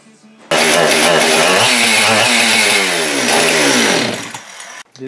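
A Husqvarna 562xp chainsaw engine starts abruptly and runs loud and close, its pitch revving up and down in wavering sweeps before cutting off near the end.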